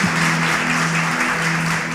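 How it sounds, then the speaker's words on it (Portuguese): Church congregation applauding during a Portuguese-language sermon, a steady wash of clapping with a sustained low hum underneath, even and fairly loud throughout. "pode aplaudir Jesus, pode aplaudir Jesus"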